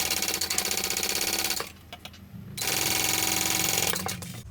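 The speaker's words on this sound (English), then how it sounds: "I'm going to flip this out and top stitch that seam down." Sewing machine top stitching a seam on a bag, a fast steady mechanical whirring stitch run, loud and close, briefly pausing before resuming the same rapid rhythm.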